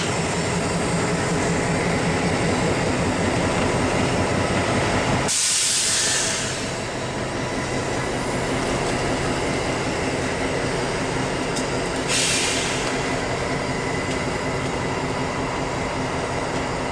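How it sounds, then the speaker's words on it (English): Santa Fe road switcher locomotive running around its consist of empty cars at a siding, a steady loud engine drone with a sharp hiss burst partway through and a second fainter hiss later. "The Richmond Road Switcher runs around its consist of empties for Collier at Christie."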